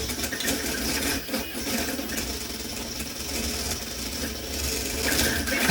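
A homemade CoreXY 3D printer runs at very high speed, its steppers and moving gantry producing a dense, continuous mechanical whir and rattle with rapid jittery motion, loud and steady throughout with no voices.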